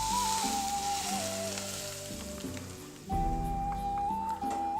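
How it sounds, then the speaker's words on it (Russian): Smoking-hot sunflower oil poured over grated carrots for Korean-style carrot salad, giving a steady close sizzle and crackle that surges again partway through, with clinks of a utensil. "Мы берем это раскаленное масло и поливаем вот сверху то, что мы все высыпали."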